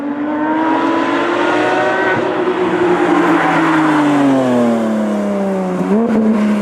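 Porsche 911 GT3 RS with a custom Tubi exhaust from Champion Motorsport pulling hard on the road, its loud, high-pitched flat-six wail rising and falling through the gears, close and continuous.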